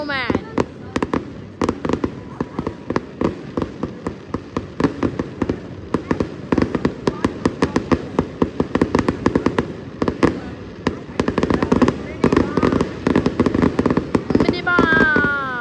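Fireworks exploding continuously in a rapid string of sharp pops and crackling bursts, loud and close, building in density toward the end, with people talking over them at times.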